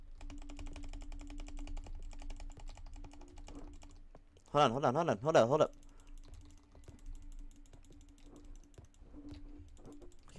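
Rapid computer keyboard clicking during a live gaming stream, a loud burst of dense keystrokes lasting about a second, with talking before and faint background noise around it.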